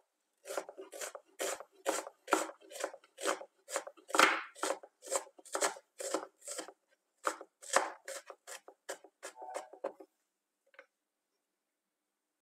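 Steady, rhythmic knife chopping of an onion on a board, many quick strokes close by for about ten seconds before stopping; no voices.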